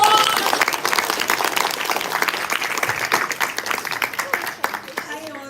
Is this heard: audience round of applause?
yes